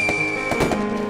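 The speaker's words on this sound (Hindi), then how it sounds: "बेटा ये लो म्यूजिक लगा दो ताकि पटाखे का शोर कम हो जाए।" Firecrackers go off in a few quick, sharp bursts over a steady background of music, fairly loud and close by.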